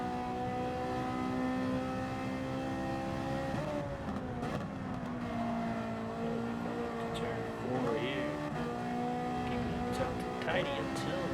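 Ferrari 458 Italia race car engine in a racing video game, sustained high-revving drone with gear changes and brief tire squeal, a voice talking over it throughout.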